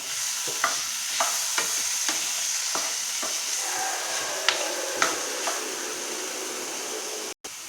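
Golachi bhaji with salt being stirred in a pan: a continuous sizzle with repeated sharp scrapes and clicks of the spatula at a steady rhythm, close and clear, without voices, ending in a brief dropout.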